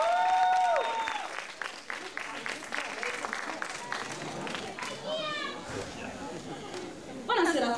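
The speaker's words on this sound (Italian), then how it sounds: "Bel applauso ragazzi, dai che state a incitare." Audience applause and cheering from a crowd at a contest, loud at first and then continuing under chatter and voices, with a burst of clapping near the end.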